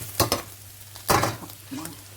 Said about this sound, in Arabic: وهاي قرفة، بنقلب. نقلب.